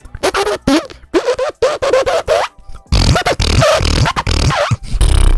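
A beatboxer performing solo at a Grand Beatbox Battle contest produces rapid zipper-like scratching bursts with the mouth, in choppy rhythmic phrases that grow denser and louder toward the end; a voice imitates the sound.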